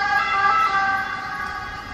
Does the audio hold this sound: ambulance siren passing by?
yes